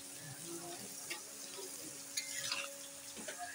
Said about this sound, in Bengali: করলাগুলো নেড়ে দিলাম।